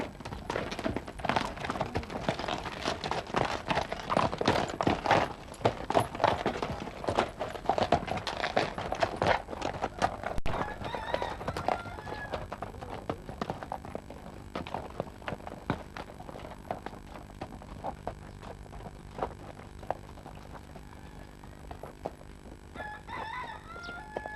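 Horses pulling a binder cutting corn clop steadily along with rattling machinery, fairly loud at first then easing; a rooster crows faintly in the distance.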